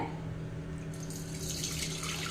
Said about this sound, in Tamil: அடுத்த தண்ணி வந்து நம்ம பொங்கு பானையில் சேர்த்திக்கலாங்க